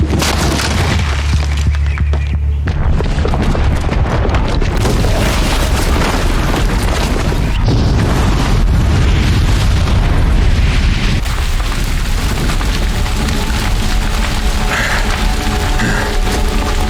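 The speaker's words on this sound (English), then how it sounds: "the booby trap on the bomb downstairs is gonna get set off" A booby-trapped bomb in Horizon Zero Dawn goes off in a long, loud, sustained explosion, a heavy roaring blast with rumbling debris and crashing that fills the whole stretch without letting up.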